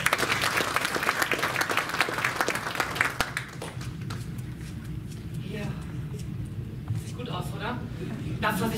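Audience applause at a hypnosis congress, a burst of clapping for roughly three seconds that then fades into room murmur and a speaking voice.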